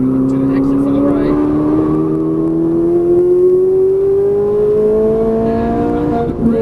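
A Ferrari 458 Italia's engine pulls at full throttle on a race track, a loud, steady rising howl climbing in pitch over several seconds with an instructor's voice talking over it.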